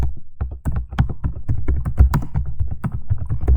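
Quick, uneven keystrokes on a computer keyboard while a WordPress blog post about artificial intelligence is written, dense clicking taps running steadily and close up with no talk.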